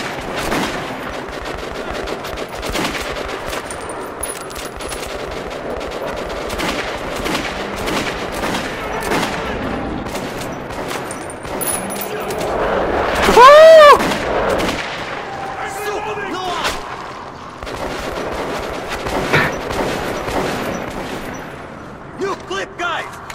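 Gunfire in Metro 2033 Redux: repeated close shots and rapid bursts crackle throughout, with a louder burst around the middle, while a player talks over the action.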